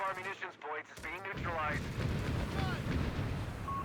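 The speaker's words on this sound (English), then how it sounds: "And a double barrage coming down there." Artillery barrage in the Company of Heroes 3 strategy game: heavy booming shell impacts and rumbling explosions pile up into a dense, continuous roar, with a caster's voice heard over the fire at the start.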